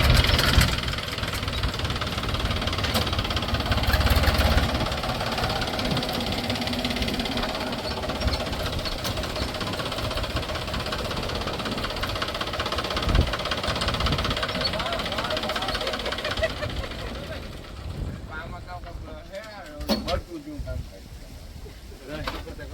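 A tractor engine on a farm field during groundnut sowing runs with a continuous knocking, rumbling idle that stays loud and close for a long stretch, while people talk over it and the engine fades somewhat toward the end.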